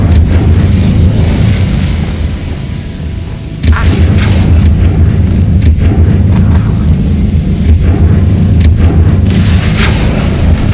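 The Incendio fire spell cast in Hogwarts Legacy produces a loud, sustained booming roar of flame with deep rumbling and a few sharp crackling bursts, continuous throughout.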